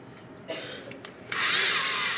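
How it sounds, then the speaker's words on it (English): A hand blender whirs as it emulsifies a grainy cocoa paste, starting with brief quiet bursts before settling into a loud, steady, close-up hum. "emulsify it with a hand blender"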